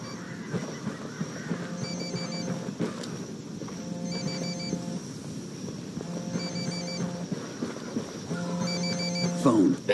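A telephone rings repeatedly in the video game Ghost Recon Wildlands at a cartel base, each burst of electronic trilling separated by short pauses over low background ambience.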